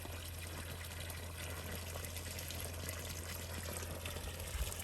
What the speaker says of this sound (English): Look how much water's coming out of here.